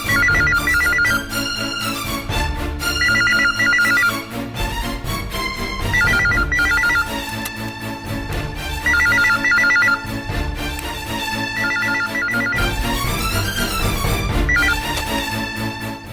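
A telephone ringtone plays loud and steady, a melodic electronic ring repeating in bursts over a continuous musical backing, with no voices.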